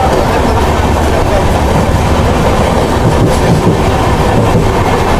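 A passenger train rumbles steadily along the tracks on a North East India journey from Guwahati to Badarpur, with a loud, close, continuous roar and faint rhythmic clatter throughout.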